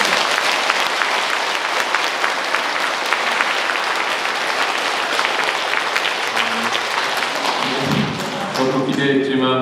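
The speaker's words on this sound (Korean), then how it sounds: "김영복 리카르도 신부님께 다시 한번 큰 박수 부탁드립니다" An audience applauds after a priest's lecture at a Catholic church's Lenten talk, loud sustained clapping that fades near the end as a voice starts to speak.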